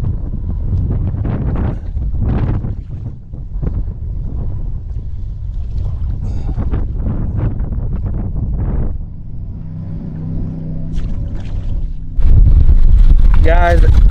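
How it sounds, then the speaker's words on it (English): Strong wind buffets a GoPro microphone on a fishing boat off the Texas coast, a continuous roaring low rumble that grows louder in the final seconds, with a muffled voice briefly audible under it. "I told you it was windy"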